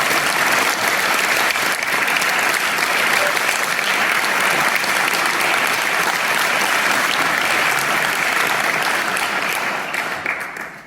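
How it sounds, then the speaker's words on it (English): An audience claps steadily and loudly at a mayoral swearing-in ceremony, a dense sustained wash of applause that fades slightly at the end. "Let's give them a round of applause."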